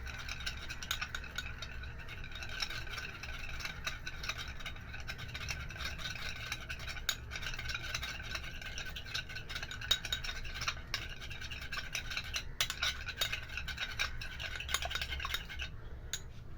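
Alum, egg white and aloe vera gel stirred together in a bowl, with faint, repetitive clicking and scraping from a spoon throughout.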